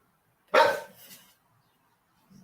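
A single loud, close dog bark followed by a softer trailing yelp, then quiet.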